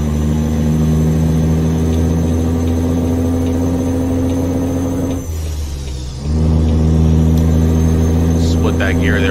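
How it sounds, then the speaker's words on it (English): A Ruda's 389 semi truck in American Truck Simulator drones steadily with a deep engine hum, then a short dip and a rougher change in the engine note as the jake brake comes on, with a voice talking throughout. "Cracking the jake there in front of the home base."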